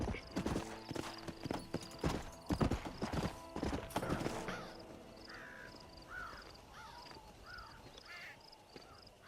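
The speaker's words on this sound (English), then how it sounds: "So let's approach at a canter." Horse hooves clip-clopping at a canter in the Western game Red Dead Redemption, a brisk rhythmic beat up close for about four seconds, then fading as crows caw and a horse whinnies in the background.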